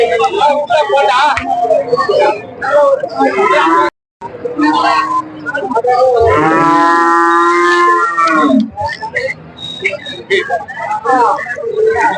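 Cows at the Vellore Poigai cattle market low repeatedly, with one long, loud moo standing out amid a busy crowd of people talking nearby.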